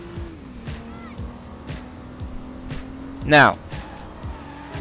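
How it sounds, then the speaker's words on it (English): Handbrake drift in the racing video game Driver: San Francisco: a steady engine hum, then a sharp, loud tire screech rising and falling for about half a second, with someone talking over it. "driving down the road, hitting the handbrake, and spinning to the side in a drifting format"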